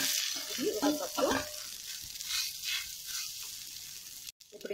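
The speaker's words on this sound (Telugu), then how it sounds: "ఇప్పుడు ఇందులో మనం ఉడకపెట్టుకున్నటువంటి రైస్ని వేసుకుందాము" Cooked rice dropped into a pan of fried cumin seeds in oil: a brief thump and rustle as the rice lands, then a steady close sizzle of frying, with a short cut near the end.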